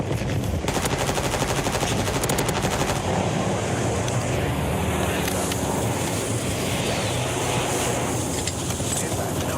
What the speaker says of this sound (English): This guy's over here shooting me through walls